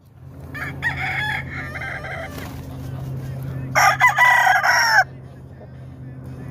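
A high-breaking gamefowl rooster crows loudly and close by, one drawn-out crow following softer earlier calls, over a steady low background hum with no talking.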